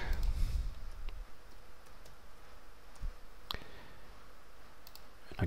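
A computer mouse gives a few sharp, isolated clicks, spaced irregularly over a low background hush, close and fairly faint, with no speech.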